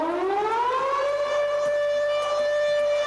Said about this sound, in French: quand toutes les sirènes des casernes de France se mettent à hurler pendant 1 minute